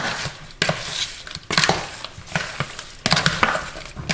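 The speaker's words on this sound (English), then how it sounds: "Now just mix that in really well." Beef liver marinated with a Maggi cube being mixed by hand in a bowl, giving wet, squelchy stirring with a few sharper utensil knocks against the dish in three bursts, close and fairly loud, with no talking.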